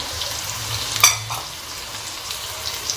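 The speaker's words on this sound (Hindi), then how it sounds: "ऑयल गरम हो गया, प्याज शामिल कर देंगे।" Three large finely chopped onions sizzle steadily in hot oil in a pan, with a brief louder stir or clatter partway through and a constant frying hiss throughout, no talking.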